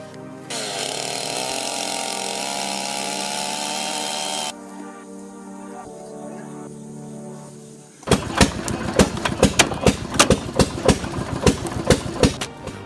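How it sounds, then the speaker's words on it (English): An old-school log splitter runs with a steady mechanical hum, then breaks into a rapid series of loud rhythmic clanks and knocks in the second half. "Watching this old-school log splitter in motion feels like stepping into a time capsule, a rhythmic mechanical ballet from another era."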